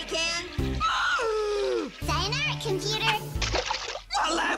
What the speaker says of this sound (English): Couldn't hear you over that powerful flushing sound.